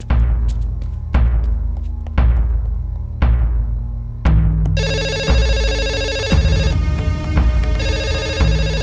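Four heavy thuds or knocks, then a telephone starts ringing loudly in a police office scene, with a continuous electronic ring and no talking.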